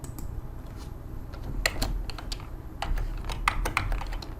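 Computer keyboard typing while entering text in After Effects CC 2021, a run of quick, irregular clicks and key taps, close and clear, with heavier bursts toward the middle and end and no talk.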